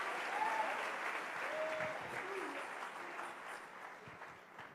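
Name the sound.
church congregation applauding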